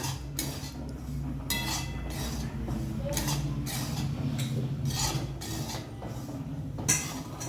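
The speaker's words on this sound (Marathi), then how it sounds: "आता आपण रवा भाजून घेऊ।" Semolina (rava) dry-roasted in a pan for Maharashtrian prasad sheera, with a spoon scraping and stirring it in steady, repeated strokes about once a second, close up and without talk.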